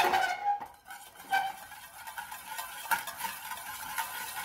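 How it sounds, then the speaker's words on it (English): A whisk stirs sweet and sour sauce in a pan, giving soft continuous scraping and swishing with a faint sizzle underneath, fairly quiet and close. "and just whisk that through."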